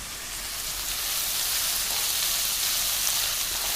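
Ingredients crackling in hot oil in a pan before onions go in for a brinjal coconut-milk curry, a dense, even, close sizzle running steadily without a pause.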